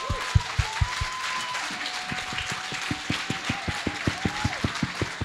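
Audience applause at the Glazen Huis event in Geleen, a continuous bed of clapping with distinct rhythmic claps near the front and a sustained tone running beneath.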